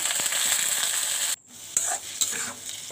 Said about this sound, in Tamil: நல்லா வதக்கி விட்ருங்க